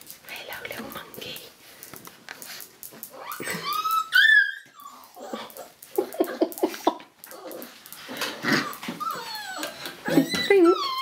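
Young puppies whimper, yip and squeal while playing and mauling each other, with high whines rising above the scuffling at close range; people talk quietly over them.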